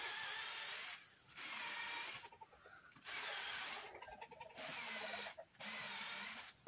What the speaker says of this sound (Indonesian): setelah dibor 8 mili lalu kita ganti mata bor